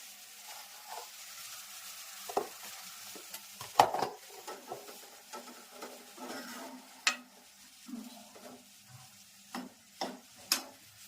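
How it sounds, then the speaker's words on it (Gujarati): Oil tempering for a fenugreek-leaf curry sizzles softly, with scattered crackles and spoon-like clicks and a few sharper pops spread over several seconds, no voices. "સરસ મજાનો વઘાર થઈ ગયો છે,"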